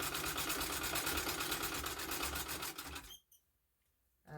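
A vintage 1926 treadle sewing machine runs in a steady, rapid rhythmic clatter with a squeaky, screeching edge for about three seconds, then stops abruptly into near silence before a brief restart at the end.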